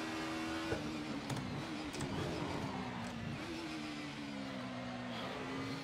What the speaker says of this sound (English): I love that throttle off sound